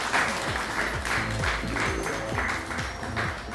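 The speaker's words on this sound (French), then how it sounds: "Donc on peut l'applaudir s'il vous plaît." Audience applause at a French fashion talk show, a steady wash of many hands clapping close by for the whole stretch, dense and even with no voices breaking through.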